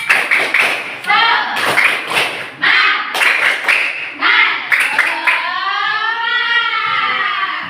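A classroom group performs a spirit clap, sharp clustered claps in a set rhythmic pattern broken by short pauses, with a teacher's voice speaking between the bursts, close and fairly loud.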